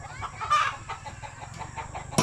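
Chickens clucking and a rooster crowing outdoors near a marsh in the rural Philippines, several short close clucks followed by a sharp crow near the end, with no talk.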